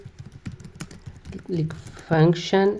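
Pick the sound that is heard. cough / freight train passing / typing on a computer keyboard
typing on a computer keyboard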